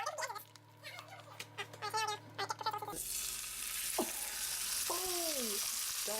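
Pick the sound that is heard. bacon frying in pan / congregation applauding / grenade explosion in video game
bacon frying in pan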